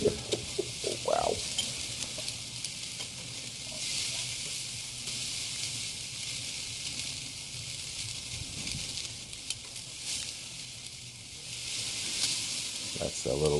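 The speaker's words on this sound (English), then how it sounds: "That's a little bacon fire on the end of that kebab." A flare-up of burning bacon fat sizzles and crackles on a ribeye and filet mignon steak shish kebab over a grill, with steady frying hiss throughout and a voice talking briefly nearby.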